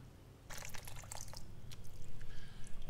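Coolant draining from a motorbike radiator during a coolant flush, a steady liquid trickle and spatter with small drips, close by and fairly faint against low background hum.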